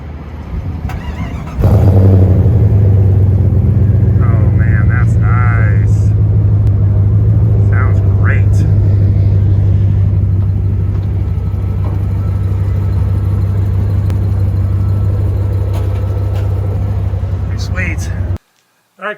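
A Jeep Grand Cherokee ZJ engine with a new MagnaFlow muffler exhaust cranks and starts, then settles into a steady, deep idle rumble that runs on for over fifteen seconds before cutting off abruptly.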